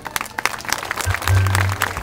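A crowd at the outdoor inauguration of a park in Patzum applauds, with scattered loud claps under a low droning hum, brief and close.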